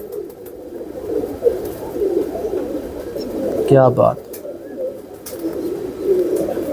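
Fancy rooftop pigeons coo during heavy rain, their soft calls mixed into a steady wash of rainfall, with a brief spoken exclamation partway through.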